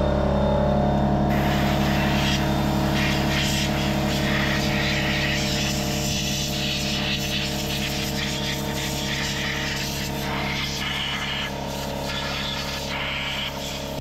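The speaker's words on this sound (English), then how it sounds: "blew most of the dust out of it" Compressed air roars continuously as it blasts dust out of a Kawasaki Brute Force ATV's stage 3 clutch. The hiss is loud, close and steady, with an underlying droning hum for the whole stretch and no talk.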